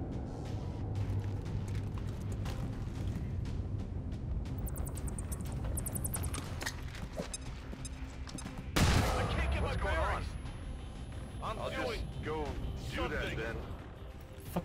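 Flashbang grenades bursting in the video game XCOM 2, heard as a dense spray of sharp blasts and crackling gunfire-like bangs, with a loud harsh burst about midway and a voice talking over the game audio.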